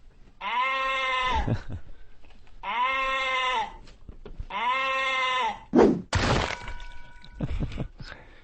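Sheep bleating close by, three long wavering bleats in a row followed by clattering and other noises, with no talking.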